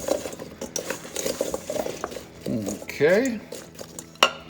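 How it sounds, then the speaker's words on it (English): Root vegetables being stirred with herbs and a little oil, a spoon scraping and clinking in a pan or dish in short bursts, close and fairly loud, with a brief spoken word amid the clatter. "Mixed up our root vegetables and their herbs, a little bit of oil"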